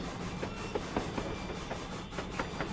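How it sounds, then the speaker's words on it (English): A model locomotive running with its valve gear in motion on a new layout, heard up close as a soft, steady mechanical rubbing with light rhythmic clicks, fairly quiet throughout. "You got valve gear in motion."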